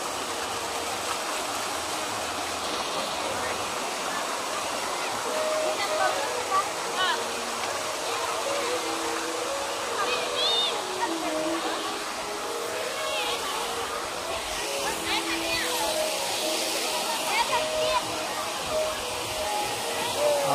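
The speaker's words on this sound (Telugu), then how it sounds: "ఎలా మ్యూజిక్ వస్తుంది అలా వాటర్ పైకి పోతుంది" Water jets of the Almatti Dam musical dance fountain rush and spray in a steady, loud wash, with music tones and voices of onlookers carrying over the continuous splashing.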